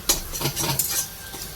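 A utensil scrapes and stirs egg bhujia in a pan, quick clattering strokes over a light sizzle, close and brief.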